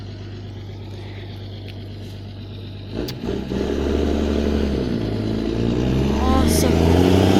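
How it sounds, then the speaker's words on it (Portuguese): A bus passes by outside, its engine rumble swelling and building from quiet to a louder, sustained drone. A person briefly speaks over it. "Tá passando um ônibus aqui."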